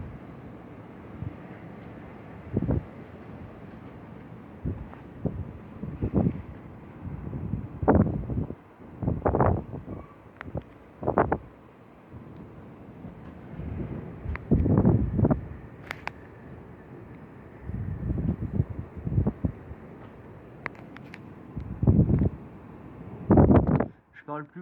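Strong gusty wind from Storm Dennis at 70-80 km/h in Villers-Bocage, roaring continuously with repeated louder buffeting bursts against the microphone across the recording.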